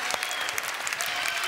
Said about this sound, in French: Applaudissements. Bravo.